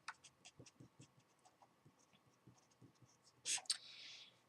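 Quiet scratchy strokes of a pen or marker writing out a positive exponent rules example, short rhythmic scribbles close to the microphone, ending with a brief louder scrape.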